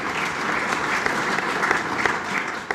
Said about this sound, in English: So please, a big applause for everyone present here.